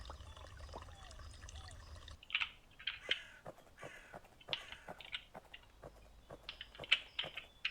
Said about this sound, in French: Et donc c'est le corbeau qui dépose les branchages.